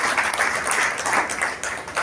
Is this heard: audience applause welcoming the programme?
yes